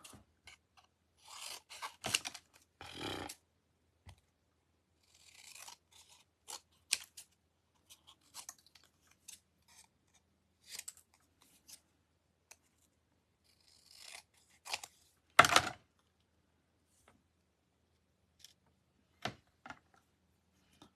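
Big scissors snip through paper in scattered crisp cuts and slides, some close and loud, separated by quiet pauses.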